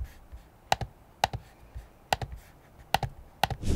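The trackpad on a Lenovo IdeaPad Pro 5 16-inch laptop gives about five sharp, loud clicks, each quickly followed by a softer release tick, spaced at a relaxed, uneven pace in a quiet room.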